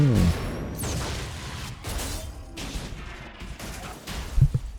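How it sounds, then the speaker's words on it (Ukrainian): Repeated bursts of gunfire and muffled booms from the racing video game Need for Speed: The Run, dense and rapid, with a sharp louder hit near the end. "Вибухи, взриви."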